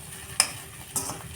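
Okra fry with chili powder and salt stirred in a pan, two quick metallic scrapes over a faint, low sizzle, close up with no voices.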